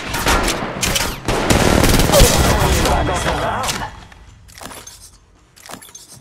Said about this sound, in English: Taking fire. Shots fired at me.